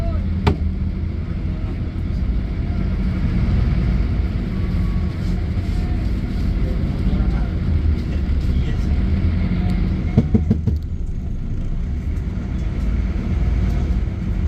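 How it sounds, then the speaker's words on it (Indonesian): A long-distance intercity bus on the Jakarta–Pekalongan route reverses out to depart, its steady low engine rumble filling the space from start to end, with a few brief knocks and clatters near the start and toward the end. "Ini bisnya udah mulai mundur buat jalan"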